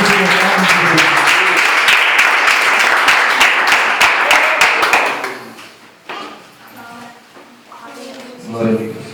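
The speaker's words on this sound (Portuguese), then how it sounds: "Palmas para o Senhor Jesus." Church congregation claps loudly and steadily for about five seconds, a dense burst of applause that then cuts off, leaving quieter room sound and faint voices.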